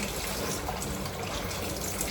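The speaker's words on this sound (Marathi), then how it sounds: "मेथीची भाजी धुवून घेते पहिला व्यवस्थित पाण्यामध्ये" Fenugreek (methi) leaves are rinsed in water, a dense, continuous rushing and splashing of water, close and steady throughout with no talking.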